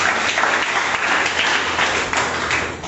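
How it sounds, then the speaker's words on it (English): An audience at a school debate event between two colleges gives a steady round of applause, dense continuous clapping that fills the moment with no talk over it. "Please make clap for me."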